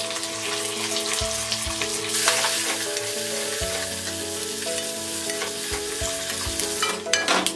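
Crushed garlic, asafoetida, curry leaves and dried red chilies sizzle in hot oil for a chutney tempering, a steady close crackle broken by a few spoon stirs, with no talk.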